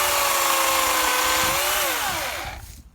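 A chainsaw cuts through wood with a loud, close, high-pitched whine that bogs slightly mid-cut, then the engine pitch drops and fades as the cut ends after about two and a half seconds.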